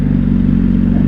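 Steady, loud engine drone from a 2025 Honda CBR600RR sports bike exhaust, a dense low rumble holding constant without pause for a brief stretch, close to the microphone.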